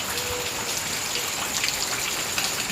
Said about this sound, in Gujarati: રાતા દસ વાગ્યા હતા વરસાદ ચાલુ થયો